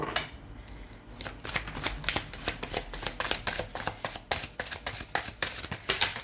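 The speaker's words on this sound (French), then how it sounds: "nous allons retirer 3 cartes du tarot Wandering Star" Tarot cards riffled and shuffled by hand in a rapid, steady series of crisp flutters, close and fairly loud with no talking.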